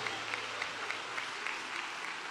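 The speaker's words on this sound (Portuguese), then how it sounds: "Vamos aplaudir o nosso rei." A church congregation claps steadily during a worship service, a dense, even wash of applause throughout with faint crowd noise and no break.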